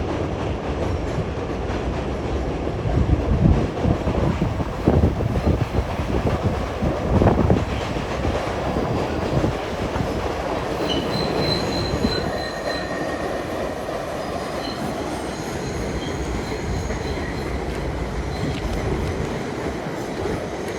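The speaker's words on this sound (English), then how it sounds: "There's a 7 train." A New York City 7 subway train passes on the tracks with a loud, steady rumble for about twenty seconds. Squealing wheels are heard throughout, with no talking.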